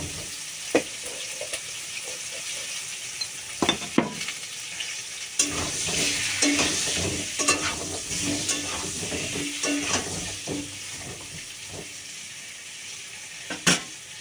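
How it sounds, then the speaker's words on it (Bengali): Pointed gourd frying in hot oil with turmeric, a steady sizzle and hiss broken by sharp clinks and scrapes of a spatula stirring the pan, fairly close and with no talking. "এবার দিয়ে দিচ্ছি পটলগুলো, পটলগুলো সুন্দর করে আমি"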